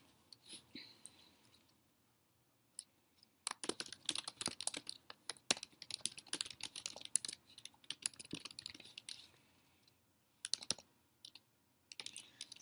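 Bursts of quiet typing on a computer keyboard as a paragraph is written, with rapid clattering runs separated by pauses and soft breathy noises between them.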